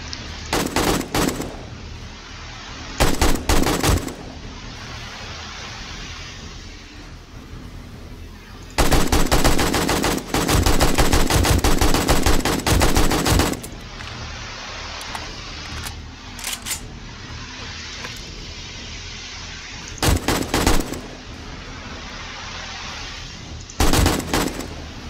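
Gunfire in 7 Days to Die during a horde night, loud rapid automatic bursts repeating in separate clusters with one long sustained volley midway, firing close and dominant.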